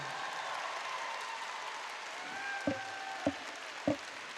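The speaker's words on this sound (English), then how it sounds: "Please join me in applauding these students for their hard work" A graduation audience applauds the students with a soft, distant patter of clapping under a hum of the hall, punctuated near the end by three louder thumps.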